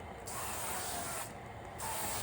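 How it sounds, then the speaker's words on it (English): Avocado oil spray coating a wok on a home stove: two bursts of aerosol hiss, the first about one second long and the second shorter, close and steady with no talking. "I like to do a little coat of avocado spray, just to coat the wok"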